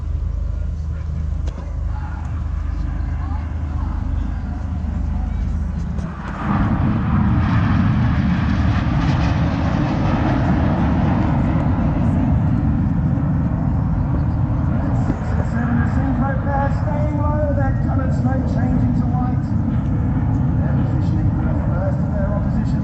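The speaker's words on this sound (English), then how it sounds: "7 aircraft pulling to the vertical" Red Arrows display jets flying overhead at a Bournemouth air show, their engines a loud, continuous roar that swells around six seconds in and holds steady, with a commentator talking over them.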